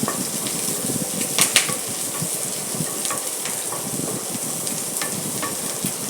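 Green peas and curry leaves fry in a kadai with a steady, dense sizzle, and occasional stirring scrapes sound close and fairly quiet with no talking.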